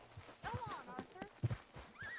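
A horse whinnies twice in Red Dead Redemption 2, with faint hoof clip-clops, as characters talk over it and the whinnies stay fairly quiet.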